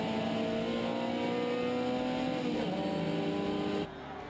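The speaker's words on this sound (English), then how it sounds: "Buerta wringing the most out of his Datsun" A red and white Datsun race car driving hard on a circuit, engine roaring loud and steady at high revs before easing off near the end, with no voices.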